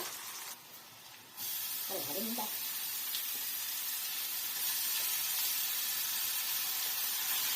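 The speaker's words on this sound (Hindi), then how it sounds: "अब उसके बाद प्याज भी अच्छे से चुरोना है जीरा के साथ में" Chopped onions frying with cumin in hot oil in a home kitchen, a steady loud sizzling hiss throughout, briefly dipping then returning with a few soft clinks from a stirring utensil.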